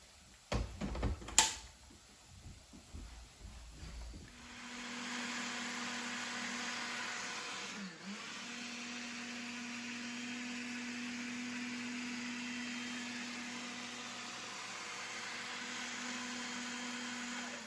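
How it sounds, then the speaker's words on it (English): A blender whirs steadily as it blends a cashew-mocha smoothie, a loud continuous motor drone that starts after a few seconds of clatter and holds for over ten seconds with a brief dip midway. "So I'm gonna blend this up."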